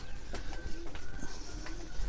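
Pet pigeons in a cage with their chicks give a short run of low, close cooing calls with some rustling around them and little talk.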